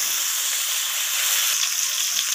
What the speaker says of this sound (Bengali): এরপর ওই একই তেলের মধ্যে আমি কেটে রাখা আলুগুলোকে দিয়ে দিলাম।